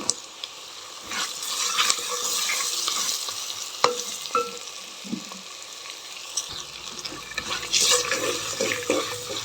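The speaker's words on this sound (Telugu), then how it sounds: "సన్నగా కట్ చేసి పెట్టుకున్న ఆనియన్స్ టూ ఆనియన్స్ వేస్తున్నా" Thinly sliced onions go into a hot pan for vegetable pulao, sizzling and frying while being stirred, with scattered scrapes and clatters and a hint of running water nearby.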